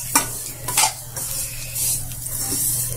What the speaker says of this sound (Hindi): भुनी हुई सेमैया लेके आते हैं और उसको हल्का घी में भून लेते हैं